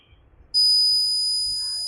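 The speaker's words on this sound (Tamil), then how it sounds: "உங்களுக்கு பீப் சவுண்டு வருது" A multimeter's continuity beep sounds during a check for a short in a secondary voltage line: a loud, steady high tone that starts after a brief quiet moment and holds to the end.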